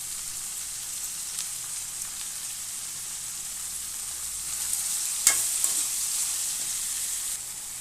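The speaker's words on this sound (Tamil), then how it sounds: "ஒரு 3/4 ஸ்பூன் இருக்கும் இஞ்சி பூண்டு பேஸ்ட் போட்டு வதக்கிங்க" Ginger garlic paste sautéing with onions in oil for a brinjal kuzhambu, a soft continuous frying hiss with a few faint stirring clicks, no voices.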